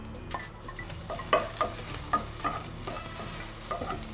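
Salt and chopped bell pepper fry in a pan for a homemade pan pizza, with a soft steady sizzle broken by a few sharp clacks and scrapes of stirring up close; no voices.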